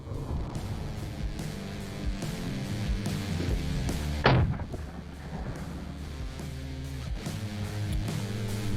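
An M79 Thumper grenade launcher fires one sharp, loud report midway through, rising over a steady musical background bed.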